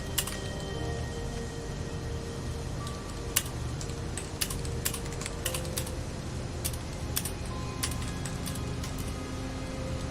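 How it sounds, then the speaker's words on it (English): Keys on a computer keyboard clack in quick irregular bursts, close and fairly loud, over a steady background hum with no talking. "Sorry for all the typing, guys."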